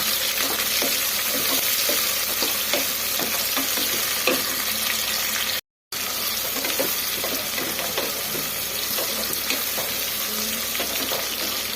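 Sliced onions for chitranna fry in a pan until reddish, a steady, dense sizzle with occasional stirring scrapes, continuous and close, broken only by a momentary cut.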